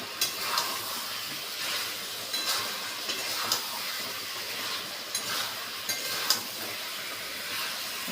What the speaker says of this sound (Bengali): এবার আলুগুলো দিয়ে দিচ্ছি, ভালো কষে নিই